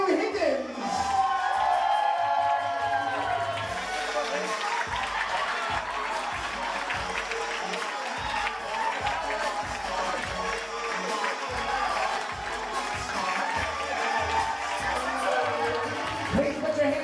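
Wedding guests give a loud, sustained round of applause with scattered whoops and cheers as the bridal party is introduced, the clapping dense and continuous throughout.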